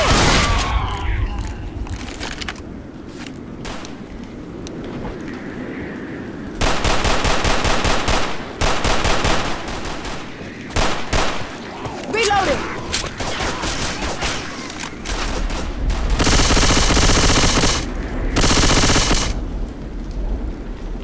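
Bursts of automatic gunfire in the zombie shooter game Left 4 Dead, loud rapid volleys in several long stretches separated by quieter gaps, with a player talking between them.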